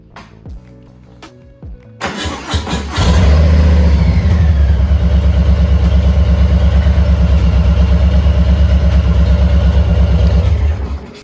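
A Harley-Davidson motorcycle powered off and back on, then its engine cranks and catches, revs up, and settles into a loud, close, steady lumpy idle with rhythmic throbbing pulses.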